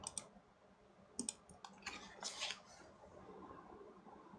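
Faint computer mouse clicks, a few quick isolated clicks followed by a short cluster of taps over quiet room background.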